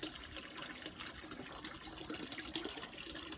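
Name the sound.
water running off the roof into the pond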